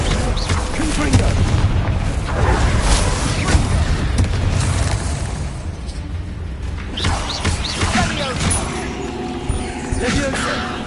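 Spell explosions from a wizard video game, a steady run of booming blasts and bursts with no clear gaps, loud and continuous over roughly eleven seconds, with a voice talking over them.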